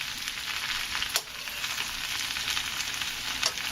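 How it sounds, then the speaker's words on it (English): Vegetables with mandarin oranges being stir-fried in hot oil, a steady loud sizzle with a couple of sharper crackles as the pan is stirred, no talking. "You want to coat these leaves in hot oil."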